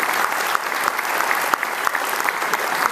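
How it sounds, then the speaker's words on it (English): A crowd at the Salvation Army Freedom Center grand opening claps warmly and continuously, dense rapid hand claps sustained at a strong level throughout, with sharper individual claps popping out now and then. "Let's give them a round of applause for that."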